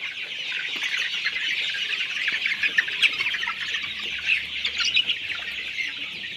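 Sonali super hybrid chickens, 26 days old, fill a poultry shed with dense, continuous cheeping and clucking. The many overlapping calls come from nearby, with no voices heard.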